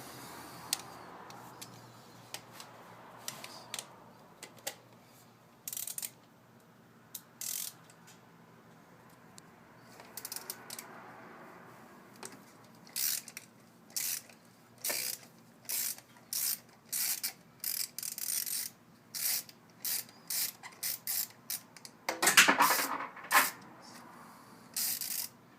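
A socket wrench ratcheting a spark plug on a 2008 Kia Optima engine, quick bursts of dry clicking repeated in short runs with pauses, close and fairly faint, no talk.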